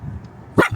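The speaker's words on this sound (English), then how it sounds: "barking at the stone dragons on the outside" A dog gives one short, sharp bark near the end, aimed at stone dragon statues outside a house, after a low quiet stretch.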